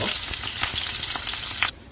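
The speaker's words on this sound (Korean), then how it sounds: "냉동 만두 그냥 네, 간편하게 같이 튀겨볼게요" Frozen dumplings deep-fry in hot oil with a loud, steady crackling sizzle and scattered sharp pops. The sound cuts off abruptly near the end, leaving quiet room tone.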